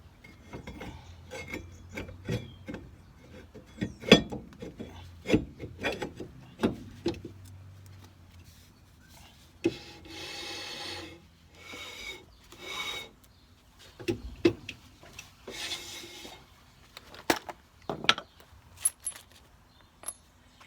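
Brake drum offered up onto the rear hub of a Mk2 Ford Focus, giving quiet metallic scrapes, clinks and rubbing taps in irregular bursts, close and faint, with some short louder scraping passages.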